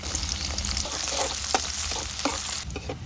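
Chopped garlic and onion fry in hot oil in a wok, giving a steady loud sizzle with brief stirring scrapes and clicks throughout, with no voices.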